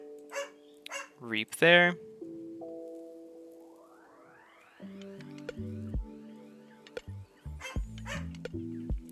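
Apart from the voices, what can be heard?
dog barking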